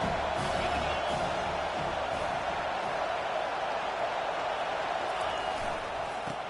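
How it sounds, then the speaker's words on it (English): Stadium crowd roaring steadily at a college football game on third down, a dense, sustained wash of cheering and whoops that stays loud and even throughout with no clear talk. "Decibels rising as the crowd gets behind this defense on third down"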